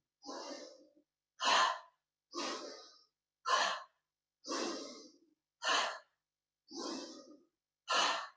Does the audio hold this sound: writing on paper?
no